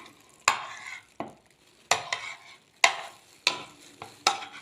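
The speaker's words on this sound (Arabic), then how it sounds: "نقلب الفراخ كويس." Half a kilo of marinated chicken breast pieces being turned in a pan: six or seven sharp scraping strokes of a spoon at an uneven pace, close and distinct against a faint sizzle.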